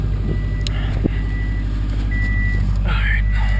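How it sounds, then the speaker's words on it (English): A 2006 Subaru WRX Limited Edition engine idles steadily and close by, a continuous low droning hum with even pulses, while a person talks over it. "So that's just that idle. Idle's pretty clean."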